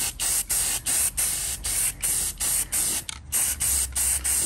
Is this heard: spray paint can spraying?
yes